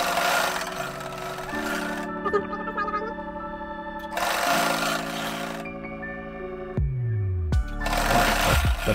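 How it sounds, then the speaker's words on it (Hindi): A sewing machine stitches lace onto a kameez hem in three loud bursts of whirring, separated by pauses, while tonal music plays underneath. "लैस के ऊपर सिलाई लगाएंगे"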